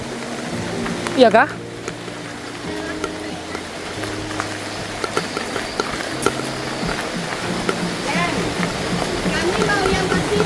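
Heavy rain pours steadily at a night market, a broad continuous hiss that stays loud throughout while people talk over it.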